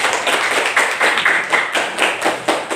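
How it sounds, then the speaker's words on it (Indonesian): A small classroom audience claps for a student named Fadil, a steady patter of hand claps with slight surges, close and moderately loud, no voices over it. "tepuk tangan untuk Fadil"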